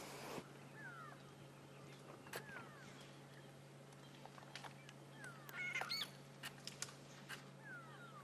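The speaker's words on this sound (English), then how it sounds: "You may just be able to hear the sound of the grey luri or the grey go-away bird going, "Wah!" all around us." Grey go-away birds (grey louries) call from around an African safari setting, several brief harsh cries scattered at varying distances over a steady low hum, some close and loud, others faint.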